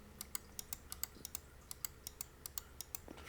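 Logitech G604 mouse buttons, right and left, clicked repeatedly in a quiet room: crisp, close, evenly spaced taps forming a quick steady rhythm with no voice.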